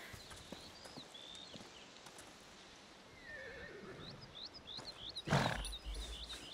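Horses in A Plague Tale: Requiem, with a loud whinny and snorting breaths over soft hoof clops, close by amid quiet outdoor ambience and faint birdsong.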